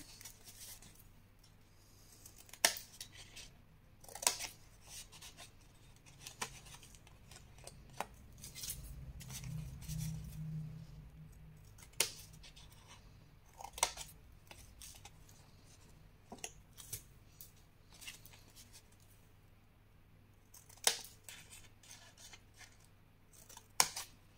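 Scissors cutting paper for a scrapbooking box, slightly at an angle, giving crisp, close snips at irregular intervals with quiet handling noises between them.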